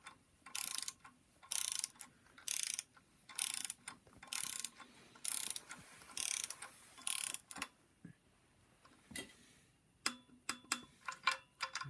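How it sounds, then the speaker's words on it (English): A torque wrench clicks in a regular rhythm while bolts are tightened on a BMW N54 engine in a 135i during a rebuild, with sharp, close ratcheting bursts and quiet gaps between them. "so we're now torquing these bolts 177 pound-inch."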